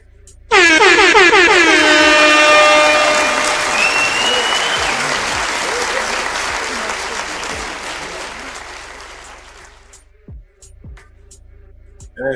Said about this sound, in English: Give him a hand clap again.